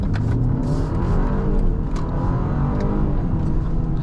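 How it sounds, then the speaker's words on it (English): A 2025 BMW M235 Gran Coupe pulls away after being put into drive, its engine humming and building in a steady, close drone heard from inside the car. "Let's pop it into drive and head off."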